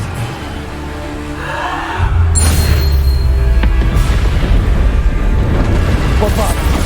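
The Bombarda blasting spell in Hogwarts Legacy goes off as a heavy, rumbling boom with crackling debris, breaking a quieter stretch and sustaining through the rest, with game voices in the mix.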